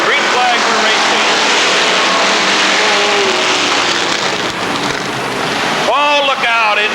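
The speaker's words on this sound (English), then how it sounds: "Here comes the field. Green flag for racing." Race cars roar together as the field takes the green flag at Rockford Speedway, a loud, dense engine wash filling the track with an announcer's voice over it and a sharp shift near the end.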